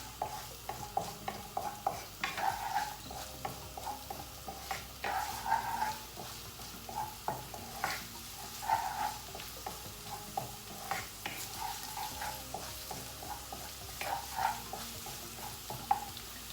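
Paneer fried rice with onion cooks in a pan, a soft continuous sizzle broken by repeated scraping stirs of a spatula at an irregular rhythm, close and moderately quiet, no talking.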